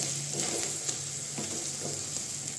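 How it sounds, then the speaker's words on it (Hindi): Spices stirred into frying leftover Diwali puffed rice in a pan, a steady close sizzle broken by soft rhythmic scrapes of a spoon. "मसालों को भी मिक्स करते हैं और 1 मिनट पका लेते हैं इसे"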